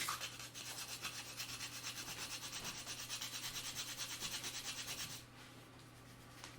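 Nutmeg grated by hand on a grater for a Christmas cake, a steady close rasping scrape in quick repeated strokes that carries on for several seconds before easing off near the end.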